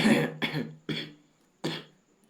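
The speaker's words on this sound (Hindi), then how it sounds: "खांसी आ जाती है बीच बीच में" Three or four sharp, separate coughs from a person who is unwell, close and fairly loud, spaced unevenly with short pauses between bursts and no talking.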